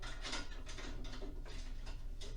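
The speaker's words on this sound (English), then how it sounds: "Put your nuts back on your bolt." Nuts being threaded back onto bolts while installing a rear fender on a Harley-Davidson Street Glide, a soft close ratcheting and metallic clicking texture, quiet and continuous without speech.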